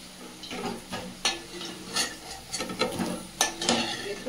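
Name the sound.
potatoes frying in oil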